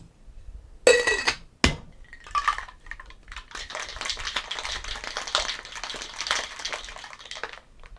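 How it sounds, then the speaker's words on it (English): Aromatic-bitters cocktail shaken in a shaker, a steady run of rattling, clinking ice shakes that carries on for several seconds after a couple of sharp knocks, close and fairly loud with no talk. "Gonna give that a good shake."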